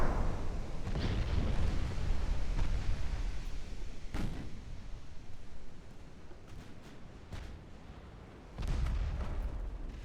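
A warship's ammunition detonates in a 1904-era naval battle game, heard as a rolling, rumbling blast with several heavy booms and bursts that fade into a dull, continuous roar before a final thump.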